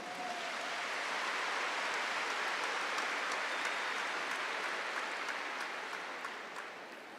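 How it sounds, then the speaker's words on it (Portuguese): A church congregation applauds after a sermon reading, a broad, even wash of many hands clapping that swells and holds steadily before tapering off at the end. "Aplaude essa palavra."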